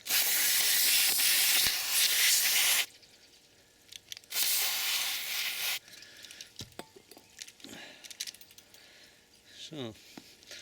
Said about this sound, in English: So that's a good squirt of carb cleaner.